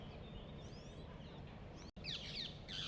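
Parrots calling from trees in a park in Puerto de la Cruz, Tenerife, with bright, harsh screeches that come in bursts near the end over a steady hum of background noise.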